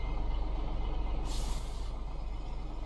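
Parking brake on a Scania R380 truck in Euro Truck Simulator 2 sets with a sharp burst of air hiss lasting about half a second, heard over the steady low rumble of the idling engine.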